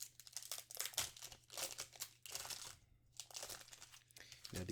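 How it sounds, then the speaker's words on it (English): Crinkly foil wrapper of a Magic: The Gathering Double Masters 2022 booster pack being torn open by hand, quiet close crackles and rips in short bursts with brief pauses. "Now these do have a pull tab, I will say, but I still like opening packs the other way."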